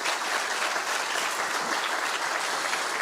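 Dense, steady applause from an audience at a community leaders' event, welcoming a woman teacher from Oaxaca, filling the full few seconds at even loudness with no talk over it.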